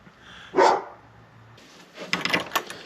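A dog barks once, loud and close, then lets out a quick, rougher burst of barks and yips a moment later.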